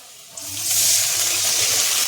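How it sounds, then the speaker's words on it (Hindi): Water poured into a hot pan of frying onion and spice masala with garam masala, coriander, chilli and turmeric, giving a sudden loud hissing sizzle that swells and holds steady, close up. "थोड़ा से पानी डाल देंगे ना, मसाला जल जाएगा।"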